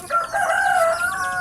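Native chickens crow and cluck loudly and close by, with an overlapping, continuous run of calls and no talking.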